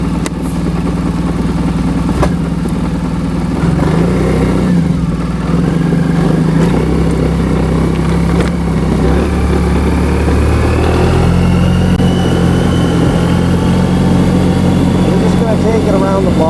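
Suzuki Burgman 650 scooter engine (AN650 K3) humming steadily while riding around the block, a continuous mid-pitched drone with mild swells, plus wind noise and someone talking over it.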